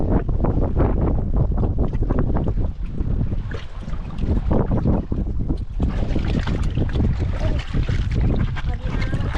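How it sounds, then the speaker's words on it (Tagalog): Strong wind buffets the microphone in a continuous low roar, with faint voices underneath throughout. "grabe hangin eh."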